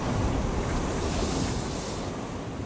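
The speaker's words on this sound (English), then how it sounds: "The winds are pretty fierce right here. The rain is still coming down in sheets, and as you can see, the waves are crashing in." Fierce storm at an offshore oil field: heavy surf and waves crash steadily under roaring wind and driving rain, a loud, continuous wash of noise with no breaks.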